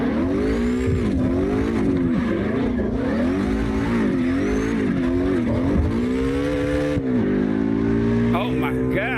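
A Mustang drifts in the CarX Drift Racing Online video game, its engine note rising and falling in a steady loud wavering whine with tire squeal, and a voice talks over it throughout.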